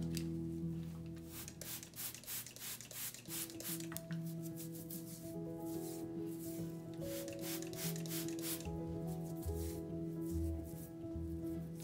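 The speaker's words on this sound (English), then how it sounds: "I'm just gonna use my comb to detangle" A comb drawn through hair to detangle it during an onion juice and oil hair treatment, giving close, steady scratchy rubbing strokes in a continuous rhythm with no talking.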